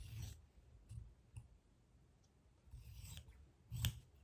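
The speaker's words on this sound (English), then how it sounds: "So I'm trimming that off. It just kind of disintegrates when you trim such a small piece too." Small fabric scissors snip off a tiny scrap of cloth from a sewing project, making a few separate crisp close-up cuts spread out between soft rustling.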